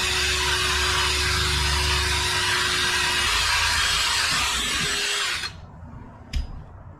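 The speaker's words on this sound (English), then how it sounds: "We'll drill out our pilot holes." A power drill drills pilot holes in a Bass Tracker boat during livewell modifications, running loud and steady for about five seconds, then winding down and stopping, followed by a brief click.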